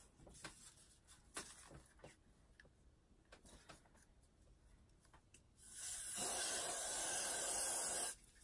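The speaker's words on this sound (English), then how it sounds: "I'm gonna also spray the Bantu knots with some Gatsby spray" A quiet room with faint taps and rustles, then a steady aerosol spray of Gatsby hairspray onto Bantu knots hisses close by for about two seconds before stopping.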